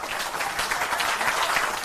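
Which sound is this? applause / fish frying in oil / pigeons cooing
applause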